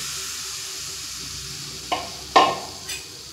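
Raw mango and sugar syrup going into a clean wok for a no-oil mango pickle, giving a steady soft sizzle with a few sharper splashy bursts near the end, close and alone without voices.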